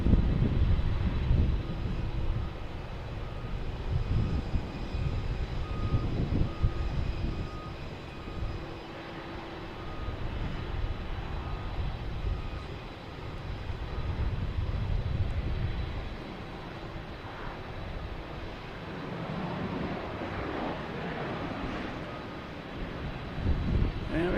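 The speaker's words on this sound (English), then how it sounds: "we got Lufthansa, 747, heading back to Frankfurt" A Lufthansa Boeing 747 departs Boston Logan for Frankfurt, its engines a broad, distant roar that rises and falls over about twenty-five seconds, mixed with wind noise and no clear speech.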